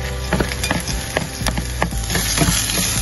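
Frozen green peas with sliced carrot and capsicum are stirred in a pan, producing repeated scraping and clacking strokes over a low sizzle, close and rhythmic.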